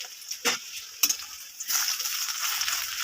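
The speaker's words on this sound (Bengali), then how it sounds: "ওই ব্যাটারগুলো তেলের মধ্যে দিয়ে দিলাম।" Fish roe fritter batter dropping into hot refined oil, giving a close, steady frying sizzle with two sharper hissing bursts early on as the batter hits the oil, then a denser, continuous crackle.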